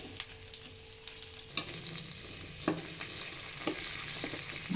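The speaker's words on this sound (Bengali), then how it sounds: "এরপর গাজর এবং ক্যাপসিকাম ছেড়ে দিলাম।" Carrots and capsicum dropped into a hot pan for cabbage Manchurian, a quiet background sizzle that grows louder and busier as they go in, with a few sharp stirring scrapes up close and no speech.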